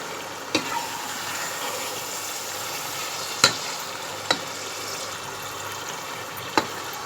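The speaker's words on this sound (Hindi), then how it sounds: "कीमे को हम भून रहे हैं।" Minced keema fries in a pan with ginger garlic paste and garam masala, a steady broadband sizzle running throughout, with a few sharp clicks of stirring spaced through it.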